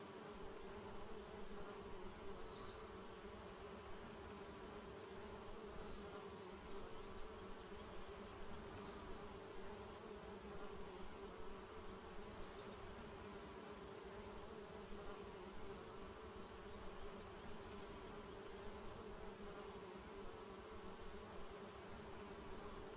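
Bees buzz in the video game Secret Files Puritas Cordis, a faint but unbroken droning hum that holds steady throughout with no voices over it.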